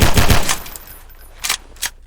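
Gunfire in Garry's Mod: a quick close burst of shots, then two separate single shots after a short pause, loud and sharp.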